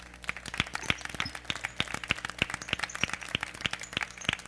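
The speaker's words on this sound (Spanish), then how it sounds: "Vamos a darle un aplauso al Señor" Applause breaks out in a church after a call to praise the Lord during a sermon, a scattered crowd of sharp, separate hand claps keeping up a steady, lively patter throughout.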